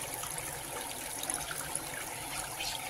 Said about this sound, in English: This is another walkway where you can find water, flowers, and the beautiful sound of water.